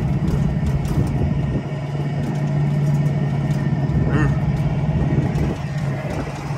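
An old oil-burning car labours slowly up a hill, its engine giving a steady low, muffled rumble that drones on without a break.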